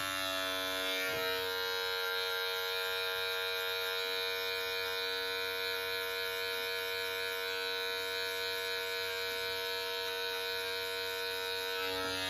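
Electric beard trimmer buzzing with a steady, close, high-pitched drone, with a brief click as its blade lever is adjusted early on.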